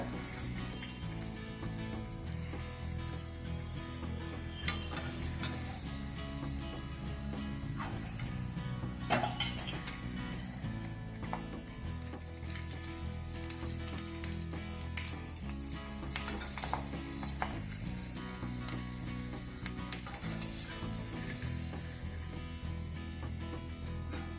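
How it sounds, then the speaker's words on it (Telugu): Cucumber and puffed rice vadiyalu fry in hot oil, a continuous dense sizzle with occasional metallic stirs and scrapes of a ladle in the pan, steady and close throughout without any talking. "ఇలా వేయించుకుందాము నూనె బాగా కాగిన తర్వాత సిమ్లో పెట్టుకోవాలి"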